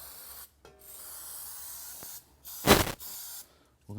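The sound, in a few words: spray adhesive being sprayed onto valve cover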